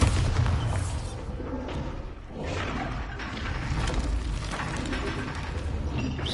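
A Bombarda spell blast in the Hogwarts Legacy video game: a loud, dense booming roar with heavy low rumble, sustained across the whole span with a brief dip partway through, no voices.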